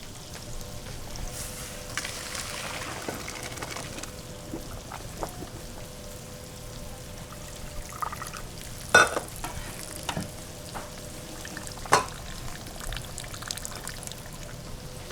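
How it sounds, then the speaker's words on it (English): Cooked rice is strained, with water pouring and draining through a strainer in a kitchen, soft trickling broken by a few sharp metallic knocks and clatters, no talking. "So we're gonna strain this rice."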